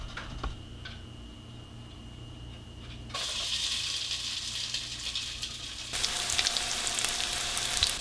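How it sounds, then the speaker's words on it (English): A quinoa and Swiss chard patty goes into a hot pan, and the quiet sizzle jumps to a louder, steady frying hiss that swells again partway through, close and with no voices. "I'm just gonna put this on the pan"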